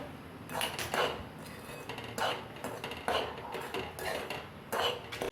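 Sabudana roasts dry in a pan while a metal utensil scrapes and clinks against the metal in irregular bursts, close and moderately loud, with no voices.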